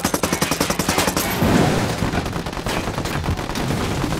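Sustained automatic gunfire in a shooter game: a rapid, evenly spaced machine-gun burst, then a denser stretch of mixed shots and blasts, loud and close, with no talking.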